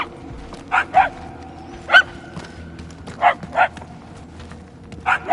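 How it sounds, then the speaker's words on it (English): A dog barks in the video game Guardians of the Galaxy, giving about seven sharp barks, mostly in quick pairs. They sound moderately distant against a low ambient hum, with no talking. "The barking is getting fainter."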